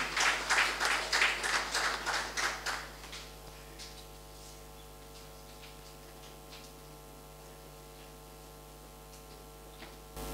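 An audience at a CIFAF 2018 conference session applauds a speaker for about three seconds, a close burst of clapping that quickly dies away and leaves a low electrical hum.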